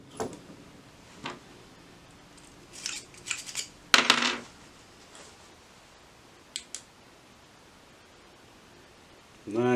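An inside neck reamer cuts the inside of a brass Peterson .284 case neck for long range, giving a few scattered scraping and rustling bursts, one louder rasp near the middle, over quiet background hiss.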